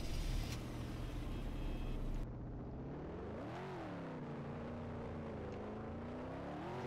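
A car drives in the Roblox video game, a steady synthetic engine drone with a sharp drop partway through, then a rising and falling pitch sweep as it revs, heard alone and quietly.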